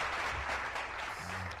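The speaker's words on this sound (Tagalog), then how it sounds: "mayroon pang masibaging palakpak" Audience applause at a gathering, a short burst of continuous clapping at a steady, moderate level with no speech over it.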